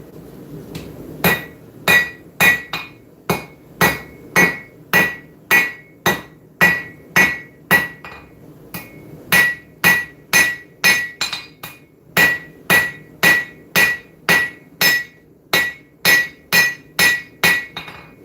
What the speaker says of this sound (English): Planish this just a little bit.